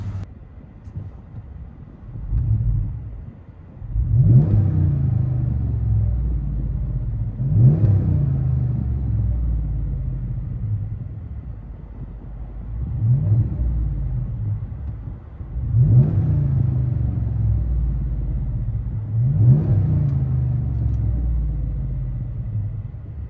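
Cabin view of a car fitted with a Flowmaster Signature Series exhaust: a steady low exhaust drone with five or six swelling revs or gear pulls at regular intervals, plus some wind noise, with no talking.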